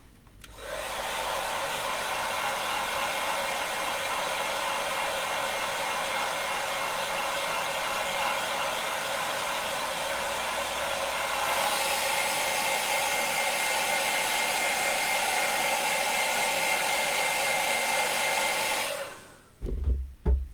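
A hair dryer blows on an airbrushed water-based paint RC body shell, a steady loud whirring rush that runs unbroken, shifts to a slightly brighter tone partway through, then cuts off with a couple of handling knocks at the end.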